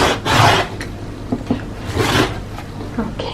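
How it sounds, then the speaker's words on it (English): Quilt fabric is trimmed along its edge on a cutting mat, giving brief rasping, scraping strokes close by, with a few light knocks between them. "So I'm going to trim that off."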